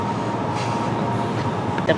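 An Elizabeth line train runs through London, a steady low rumble and cabin drone throughout with a faint squeal near the end, while a voice speaks quietly over the noise.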